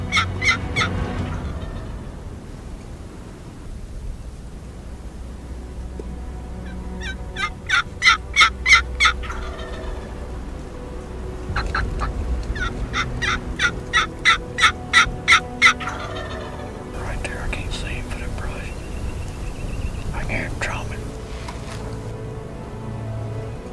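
Wild turkey gobbling in spring woods during hunting season, heard as two runs of rapid rattling gobbles at moderate distance over quiet outdoor background.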